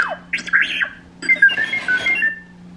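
A Disney Store R2-D2 Star Wars feature figure plays its electronic droid sound effect, a series of chirpy whistles and warbling beeps in two short bursts, fairly clear and close.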